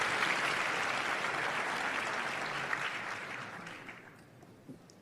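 An audience claps and cheers at a talk with the CEO of Bluesky, a dense burst of applause that holds steady and then fades out toward the end.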